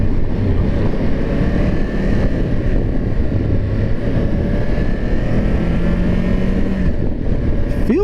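A 2023 Triumph Tiger 1200 GT motorcycle with a 333 engine pulls away gently in first gear at about 2000 rpm, a steady loud engine drone mixed with wind rush on the rider's microphone.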